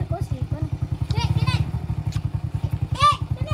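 A small motorbike engine putters nearby at a steady, fast idle-like rhythm, with a voice and other voices chattering over it.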